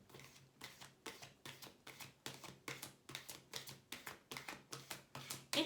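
Dreams of Gaia tarot cards being shuffled and drawn, a quiet close run of rapid, evenly spaced flicking taps that keeps going throughout.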